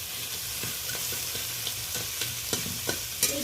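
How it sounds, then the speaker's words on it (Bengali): Small crabs fry with onion and turmeric under a constant sizzle, stirred with a run of soft clacks and scrapes that grow sharper toward the end; no speech. "হলুদটা দিয়ে ভালো করে পেঁয়াজের সাথে কাঁকড়াগুলোকে নেড়ে দিচ্ছি।"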